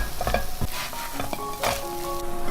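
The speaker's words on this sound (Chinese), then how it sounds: "开盖再煎3分钟" A hand-pulled flatbread with dried mustard greens frying in a pan without added oil, a close crackling sizzle with scattered pops and light clinks of a utensil.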